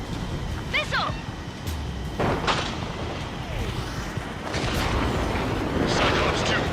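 Missile explosions during an Ace Combat 7 aerial dogfight, heavy booming blasts over a constant roar of jet engines, with radio chatter heard over the noise.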